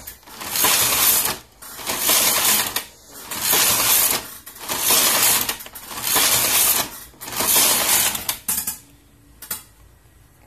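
Toyota 950 knitting machine carriage knitting tuck stitch, sliding back and forth in about six rhythmic rattling passes with short pauses between, close and clear, ending in lighter clicks.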